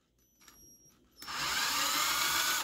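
A power driver spins up to drive screws into a nitro engine roto starter: after a second of quiet with faint high whine, a loud steady motor whir starts and holds until it stops abruptly, close and without talk.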